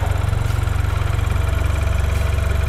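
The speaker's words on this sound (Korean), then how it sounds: "엔진 소리 일정합니다." A BMW 428i M Sport coupe (F32) with tuned variable exhaust idles with the engine bay open, giving a loud, steady, evenly pulsing rumble heard up close with no talk.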